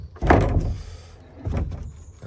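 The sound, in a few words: swollen garage door being opened and closed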